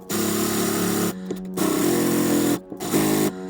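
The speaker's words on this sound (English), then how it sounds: "I'm gonna fit that bolt back onto the wooden jig and take off a little bit more material" A power tool, likely a drill, spins a bolt held in a wooden jig to take material off its shaft, a steady whirring hum that runs in three bursts with short pauses between them.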